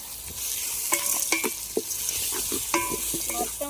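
Country chicken curry with turmeric and rock salt stirred and fried in a pot, a spoon scraping and clinking against the metal in irregular strokes over a soft sizzle.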